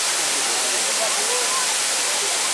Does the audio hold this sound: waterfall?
yes